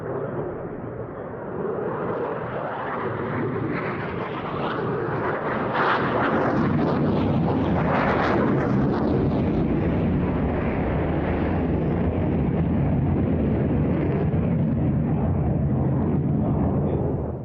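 Fighter jets roar loudly and steadily through an airshow maneuver in Scotland, a sustained broad jet rumble that swells and holds for the full stretch, with no voices over it.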